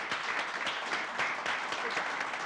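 An audience at a 2005 Skills Express graduation ceremony applauds the graduates, a dense, steady wash of many hands clapping that holds at an even level throughout.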